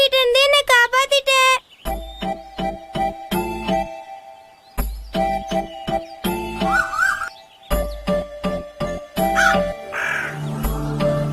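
Cartoon crows cawing in a Tamil children's animated story: harsh, repeated caws at the start, then choppy bursts of bright jingly music and effects that keep starting and stopping, loud and close throughout.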